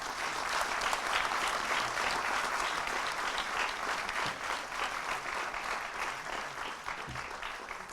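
Sustained audience applause at a Hindi-language book launch, a steady, dense wash of many hands clapping that holds evenly for the whole stretch with no voices over it.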